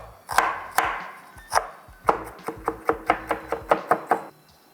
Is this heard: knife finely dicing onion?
yes